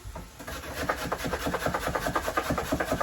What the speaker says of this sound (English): I'm gonna grate some carrots on here.